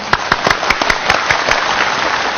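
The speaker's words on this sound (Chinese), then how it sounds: "我们掌声把他请上来" Audience applause welcoming a guest onto the stage at a televised interview with a Yue opera master: a dense, steady clatter of many hands clapping, with a few sharper claps standing out, no voices.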